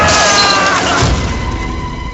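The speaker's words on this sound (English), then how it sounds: "That is a big-ass monster throwing me through a second-story window into the main lobby" In the horror game Outlast, a monster hurls the player through a second-story window into a lobby: a loud crashing smash of breaking glass and impact that quickly fades into a rumbling tail.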